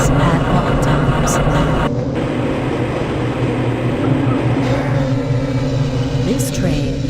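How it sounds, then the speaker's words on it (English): Half-Life: Blue Shift tram train running through the Black Mesa facility, a steady loud rumble and clatter with a mechanical hum. An announcer voice speaks over it. "This train is inbound from the Area 8 topside dormitories to the Central Transit Hub in Area 9."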